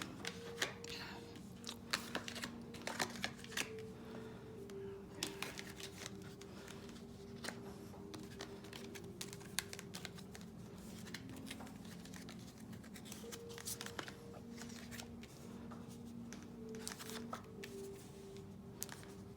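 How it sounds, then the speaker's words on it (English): Tarot cards being laid out and shuffled on a table, a steady run of soft, close flicks and slaps with a low hum underneath and no talking. "I'm going to lay out the cards."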